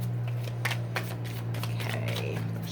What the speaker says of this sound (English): Okay, shuffle.